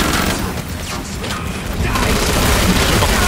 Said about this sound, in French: Attention par contre grenade.